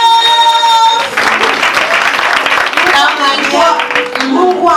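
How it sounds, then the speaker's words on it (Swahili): A church congregation claps hands together in dense, loud applause, and a voice carries on speaking over the clapping throughout. "Piga makofi!"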